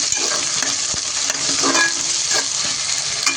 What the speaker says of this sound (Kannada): ಒಂದು ಮೂರು ಈರುಳ್ಳಿನ ಚೆನ್ನಾಗಿ ಫ್ರೈ ಮಾಡ್ಕೊಬೇಕು ನೀಟಾಗಿ